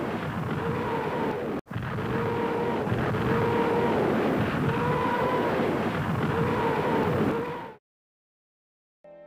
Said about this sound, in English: a rocket barrage is used to stop them in their tracks